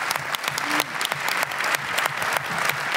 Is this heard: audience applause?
yes